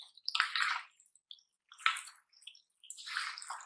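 Fried garlic is stirred into Peshawari namkeen gosht (salted goat meat), giving three close, wet squishing strokes separated by short silences, with no other sound.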